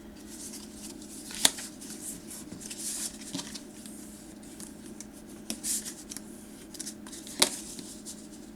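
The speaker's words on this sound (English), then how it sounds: "So we're going to snip away those corners right through that" Scissors snip through scored paper corners for a handmade memory book, giving a few sharp, separate cuts spaced several seconds apart against a quiet room.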